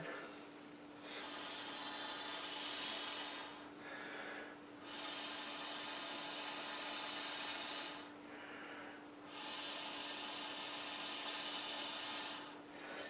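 Long steady breaths blown through a blower pipe onto embers to coax a ferro rod campfire, three sustained airy blows broken by brief pauses, close and fairly loud with no talking.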